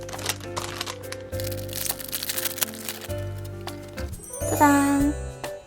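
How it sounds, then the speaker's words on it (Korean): Plastic wrapping is peeled and crinkled off an Inside Out enamel pin, giving close crackling and rustling with a brief metallic tinkle near the end, over soft background tones. "우선 더 잘 보이게 비닐부터 벗기도록 하겠습니다"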